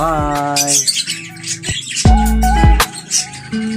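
Loud, close squawks and chirps from African lovebirds in an aviary come in repeated harsh bursts, several birds calling over one another with no talk.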